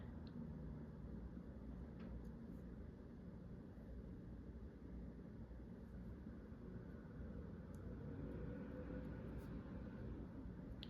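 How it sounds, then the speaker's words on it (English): Steady low rumble of traffic from a nearby highway, a continuous broadband drone with no distinct pass-by, heard faintly and indoors throughout. "oh no, that's a car. If you hear weird noises in the background, it's because I live off of a highway."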